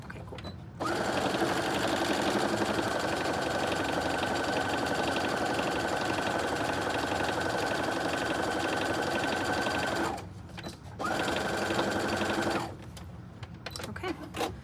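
A sewing machine stitches a tote bag seam, a loud, steady mechanical whir running several seconds, pausing briefly, then a shorter burst for the back stitch at the end.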